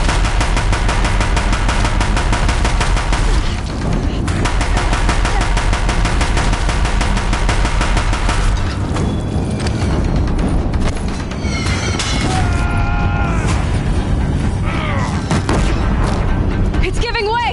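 Deathbringer machines in the video game Horizon Zero Dawn fire heavy guns near a bridge, a loud sustained machine-gun barrage with booming blasts, mixed with game music and shouted dialogue.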